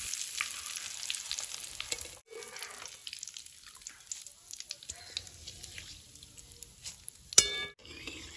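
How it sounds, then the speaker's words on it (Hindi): Poha, flattened rice, fries in small batches in hot oil with a busy, fairly quiet crackling fizz that drops out briefly, returns, and ends with a sharper clink. "अब इस पोहे को थोड़ा थोड़ा करके फ्राई करेंगे।"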